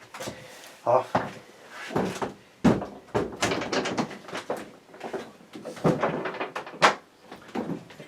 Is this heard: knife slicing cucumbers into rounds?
no